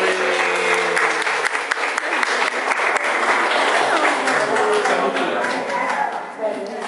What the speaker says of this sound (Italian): E a questi bambini facciamo un bel applauso.